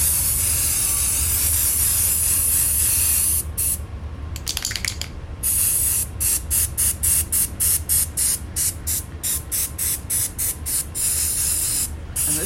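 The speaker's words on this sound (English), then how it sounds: "if you spray on an angle, it will spray under the stencil" Continuous loud aerosol hiss close up, spraying onto a stencil on fabric clothing, then breaking into a rapid series of short sprays in quick pulses, no speech.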